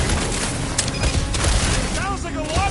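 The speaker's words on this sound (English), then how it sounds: "Sounds like a lot of flork and gunfire." Dense rattling gunfire and explosive bursts from a battle in the video game Marvel's Guardians of the Galaxy, continuous and busy, with voices talking over the clamor.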